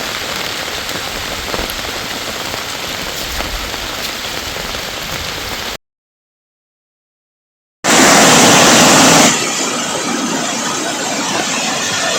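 Heavy rain pours down steadily and loudly, a dense hiss that cuts out briefly to silence before resuming even more intensely.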